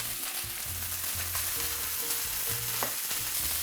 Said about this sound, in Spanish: que se dore por fuera y selle la carne